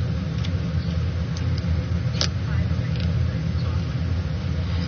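Inside a moving car, a steady low road rumble and engine drone continue without a break, with a few faint clicks and short rattles on top. A voice talks quietly over the noise.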